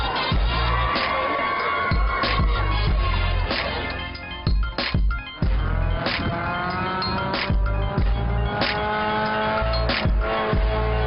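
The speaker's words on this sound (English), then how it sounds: "The car, it flips like a skateboard." A stunt car performs a flip at a skateboarding event, with the engine revving and tires squealing under loud crowd cheering, punctuated by sharp impacts and clatters throughout.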